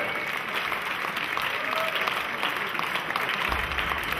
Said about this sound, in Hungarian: Szeretnék egy nagyon nagy tapsot kérni a szervezőknek